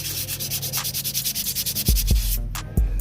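Body filler in a Honda Civic engine bay is hand-sanded in quick, even back-and-forth strokes, close and rhythmic, followed by a few dull knocks and handling thumps near the end.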